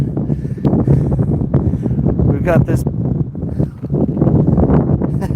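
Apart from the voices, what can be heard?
wind blowing at river sluice in Alaska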